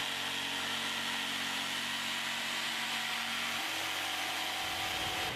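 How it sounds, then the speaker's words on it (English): A Bosch GST 140 jigsaw cuts steadily through material, a dense, continuous buzzing drone with no talk, the motor tone shifting slightly near the end. "The GST 140 is capable of cutting dead straight in a variety of materials"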